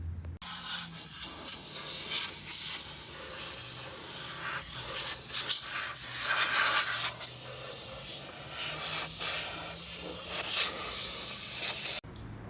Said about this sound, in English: hosing out the oil pan